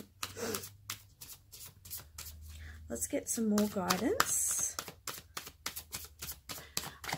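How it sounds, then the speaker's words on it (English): Tarot cards being shuffled off camera during a pick-a-card reading, a rapid run of crisp riffling flicks and clicks, close and moderately loud, with a person speaking briefly over the start. "I'm just shuffling off camera."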